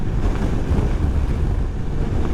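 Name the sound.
strong wind blowing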